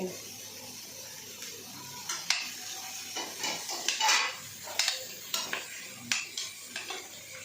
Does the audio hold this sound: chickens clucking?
no